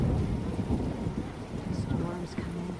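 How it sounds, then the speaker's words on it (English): An approaching storm in The Witcher video game, heard as a continuous low, rolling thunder rumble mixed with rain hiss, fairly close and steady throughout. "Storm's coming."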